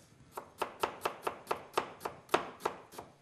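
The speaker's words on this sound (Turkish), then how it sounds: "soğanlarımızı hemen ince bir kıyımla şöyle güzelce bir şekilde doğruyoruz" A knife chops onions finely on a cutting board, about a dozen crisp, evenly spaced strikes, close and fairly quiet.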